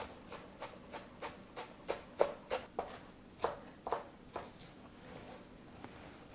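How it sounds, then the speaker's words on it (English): A knife chops spinach in a bowl with a series of soft, close, irregularly spaced cuts, some sharper than others. The cuts thin out toward the end in an otherwise quiet kitchen. "we'll just make quick work of chopping this up."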